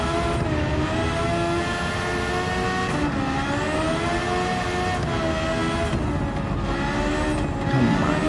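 Engine-swapped Suzuki Swift Sport screaming through a race in Gran Turismo 7 from the cockpit view, its engine holding a loud, steady high-revving wail with harmonic pitch dips and climbs as it shifts and brakes for corners.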